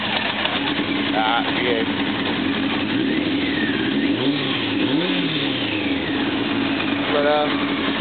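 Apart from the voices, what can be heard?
1995 Honda CBR900RR motorcycle engine idling and revving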